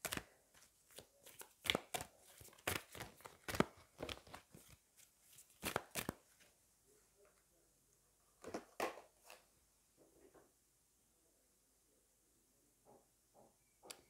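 Oracle cards from a Shadows and Light deck are shuffled in quick, crisp riffles and slaps, close and fairly quiet, thinning into sparse taps toward the end.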